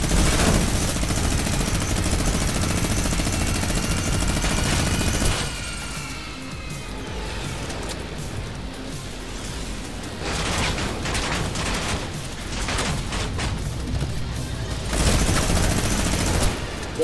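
Sustained rapid minigun fire in Fortnite, a dense continuous roar for the first five seconds, then lighter, more broken bursts and mechanical clatter before another heavy stretch of spinning-barrel fire at the end.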